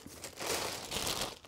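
Plastic bag crinkling and rustling while a box holding a large turbo is unpacked, a close, steady crackle lasting about a second and a half with no talk.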